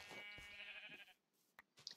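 Sheep bleat in the Minecraft video game, with several harmonic, wavering calls close together in the first second, then short sharp game sounds near the end.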